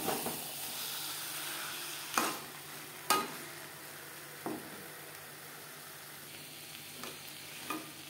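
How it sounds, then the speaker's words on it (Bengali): Potatoes sear with spices over a medium flame for egg curry, a soft, even sizzle punctuated by occasional spatula scrapes against the pan, with nobody speaking. "মশলার সাথে আলু কষাবো মিডিয়াম ফ্লেমে"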